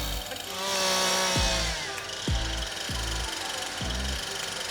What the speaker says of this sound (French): Une tronçonneuse.